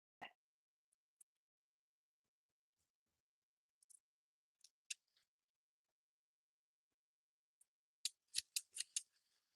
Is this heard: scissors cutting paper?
yes